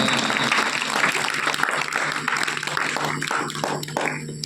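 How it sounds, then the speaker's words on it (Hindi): Audience applause at a village yoga, pranayama and meditation gathering at an Ayushman Arogya Mandir health centre: a steady, dense patter of many hands clapping continuously, fairly close, with faint voices mixed in. "तालियां बजाओ उनके लिए जिसने सोच बनाया है।"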